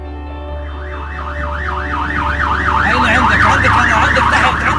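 An ambulance siren wails in a steady rising and falling cycle, loud and close, growing louder over a low engine rumble.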